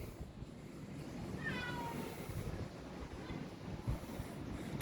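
A double-coated Persian doll-face cat in heat gives a single drawn-out, wavering meow, fairly close but modest in level, over a steady windy background hiss.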